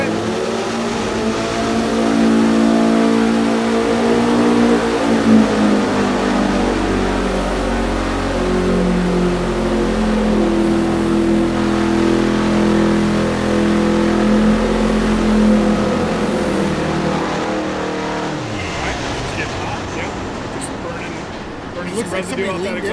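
A VW engine built for the EMPI Engine Battle 2024 revs loudly and steadily climbs in pitch during a dyno sweep, a sustained close roar lasting nearly twenty seconds before dropping off, with voices faintly under it.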